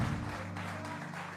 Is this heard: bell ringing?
no